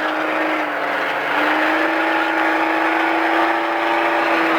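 Race car engine at SpeedVegas holding a steady, loud drone with a rising whine as the driver works the throttle on track, continuous and close throughout.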